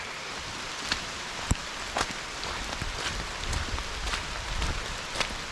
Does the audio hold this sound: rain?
yes